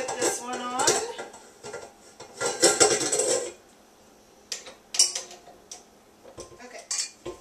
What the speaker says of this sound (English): I've now switched out bowls and the whisk